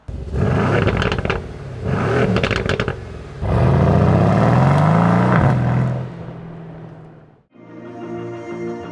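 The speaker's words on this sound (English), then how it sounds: "listen to all those lovely noises coming from the exhaust back there" A Mercedes-AMG C43 with the AMG Performance Exhaust is driven, loud revving and rising engine notes in several bursts, then a pause and a lower idling rumble at the end.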